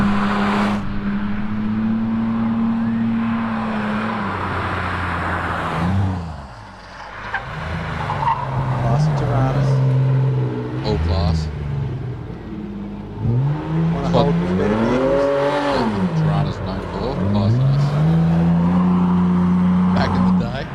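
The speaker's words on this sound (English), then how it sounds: "As we see the Tirana making its way up the top of the mountain," Tirana race car driven up a mountain hillclimb course, its engine loud and close throughout, pitch rising and falling sharply through gear changes and corners with brief tire squeal, easing off only once near the middle.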